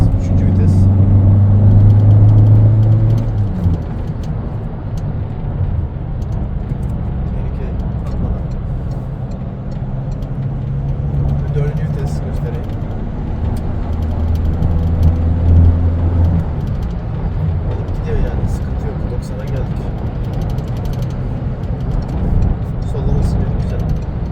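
A 2013 Peugeot Partner Tepee Zenith turns while its engine hums low and steady from inside the cabin, with a deeper rumble swelling briefly near the start and again midway, under someone talking throughout.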